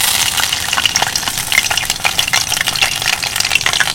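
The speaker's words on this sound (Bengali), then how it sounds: "এখানে আমি তিনটে তিনটে করে ভেজে নেব।" Eggplant slices fry in white oil in a wok, giving a steady, loud, close crackling sizzle with bright spattering pops throughout and no voices.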